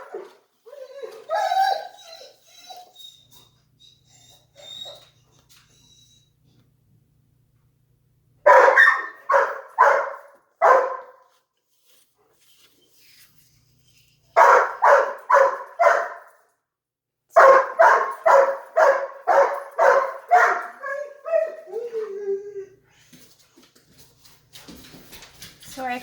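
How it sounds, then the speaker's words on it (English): Excited pet dogs bark in a home, loud and close, in repeated rapid volleys with whimpers and yips between, with some quiet talk early on and pauses between the bursts. "Sorry for the dogs."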